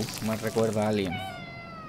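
A cat meows in the horror video game Conarium, a drawn-out tonal cry rising clearly after a man's speech ends.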